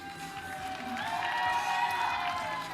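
Applause and cheering from a home crowd at a para powerlifting championship in Thailand, moderate and sustained for a few seconds in an indoor arena, with a commentator's voice faintly over it.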